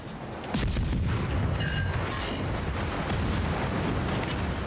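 Ship guns fire in World of Warships, a loud booming blast followed by a sustained rumbling roar of naval battle noise, with a few faint sharp metallic pings.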